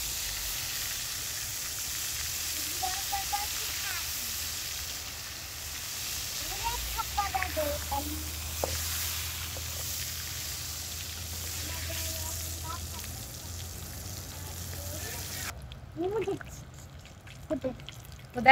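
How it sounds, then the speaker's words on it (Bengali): Quail frying in hot oil in a pan, a soft, steady sizzling hiss with occasional pops, heard fairly low with faint background voices. "সুন্দর করে ভালোভাবে শক্ত করে ভাজা ভাজা করবো"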